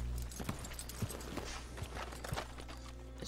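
A horse in the Red Dead Online video game steps over an animal pelt on the ground. Its hooves land in soft, evenly spaced clip-clop beats, quiet and close, with a low hum running underneath.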